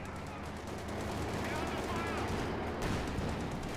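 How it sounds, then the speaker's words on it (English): In a Company of Heroes 2 battle between German and US forces, a sniper rifle shot cracks amid a dense wash of distant gunfire and rumbling combat noise that swells slightly partway through. "Shot fired there."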